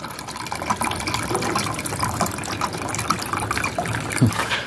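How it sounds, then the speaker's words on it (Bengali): Water poured into a drinking bowl for pigeons, a steady close splashing and gurgling stream that runs throughout without talk. "এখন ওদের জন্য পাত্রতে একটু পানি দিয়ে দেবো যেন ওরা খেতে পারে"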